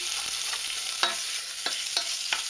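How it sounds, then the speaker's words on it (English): Streaky bacon sears in a frying pan with a steady, bright hiss of hot fat, and a few sharp scrapes and taps from a utensil come through the constant sizzle up close. "you seal the streaky in the fire pan"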